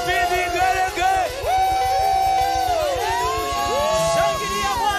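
Congregation in a church service breaking into vigelegele, high warbling ululation from several voices rising and falling in long sliding tones over a loud, steady crowd roar with shouts.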